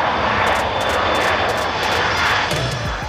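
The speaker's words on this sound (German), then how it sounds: "wir hören hinter uns schon wieder die nächste Maschine starten" An airliner takes off at Hamburg airport, heard from the viewing terrace as a loud, sustained jet-engine roar that swells and holds steady for several seconds.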